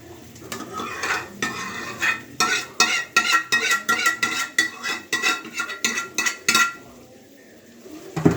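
A ladle repeatedly clinks and scrapes against pots and serving bowls as cooked chickpea curry is dished out, in a quick, uneven series of sharp metallic knocks, close up, ending in a quiet pause.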